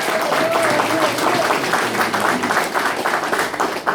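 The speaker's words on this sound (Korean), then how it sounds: "박수 한번 주십시오." A packed audience at a political campaign office opening in Uijeongbu gives a loud round of applause, dense clapping that swells and then thins slightly over a few seconds, with voices underneath.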